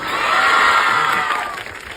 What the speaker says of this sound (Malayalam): ശിവയ്ക്ക് ഒരു കൈയടി കൊടുക്കാം